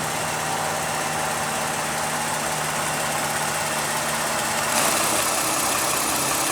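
A 2015 Lexus RX 350 with its 3.5 L double overhead cam V6 idles at a steady, even hum with a low rumble, continuous and without talk, swelling slightly near the end.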